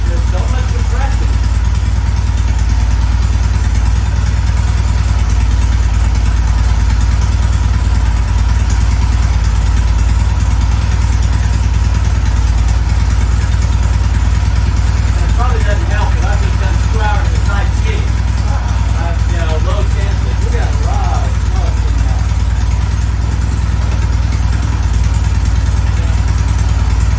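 A Norton motorcycle engine idles after a cold start with a loud, steady, throbbing rumble throughout, close and unbroken, while a voice briefly talks over it.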